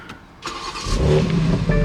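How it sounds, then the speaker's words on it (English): Cold start of a 2021 BMW X3 M Competition engine in Sport Plus mode: a starter whir, then the engine catches with a loud, aggressive flare that settles into a deep, steady rumble, heard close from inside the cabin. "it gives it a more aggressive cold start"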